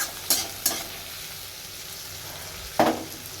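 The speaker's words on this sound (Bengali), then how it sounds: "আর এখানে কালো জিরে কাঁচা লঙ্কা পেঁয়াজ টমেটো আলু সব কিছু দিয়ে একটু ভাজা ভাজা করে নিচ্ছি" Onion, tomato, potato, green chili and black cumin fry in a pan with a soft steady sizzle, broken by three sharp scraping stirs of a spatula, two early and one near the end, with no voices.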